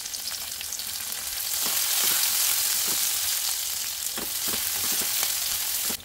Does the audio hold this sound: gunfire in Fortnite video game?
no